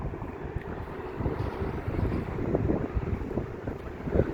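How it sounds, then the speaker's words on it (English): A cold, biting breeze buffets the microphone on Blackpool's seafront promenade before 7 AM, a steady low roar of wind noise that swells and eases without pause and has no talking. "Still cold, there's a bit of a breeze. The breeze is biting a little bit."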